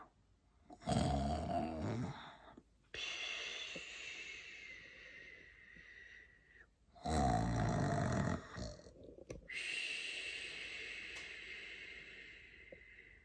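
Loud, rumbling snores from the ogre in Jack and the Beanstalk, who fell asleep at the table after a huge meal: two long, heavy snoring bursts, each trailing into a drawn-out wheezing exhale, close and alone.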